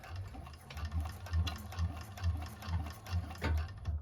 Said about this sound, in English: we're just going to sew all the way down to that one edge